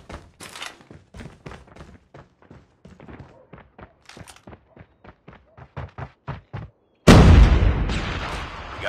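A bomb explosion in Call of Duty Mobile bursts in loudly near the end with a sharp heavy boom and a long rumbling decay, following several seconds of quiet, rapid clicking and tapping.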